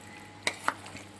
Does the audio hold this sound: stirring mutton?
yes